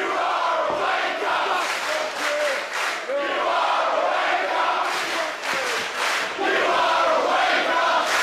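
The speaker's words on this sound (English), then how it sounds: "Crowd is electric, Jesse" A lively wrestling crowd at a WSW heavyweight championship bout cheers and yells continuously, a loud, dense wall of voices that swells and dips across the whole stretch.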